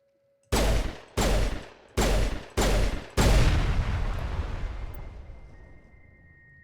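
Five heavy gunshots in Mass Effect, four evenly spaced loud blasts followed by a final larger one that rolls into a long fading rumble, close and dominant.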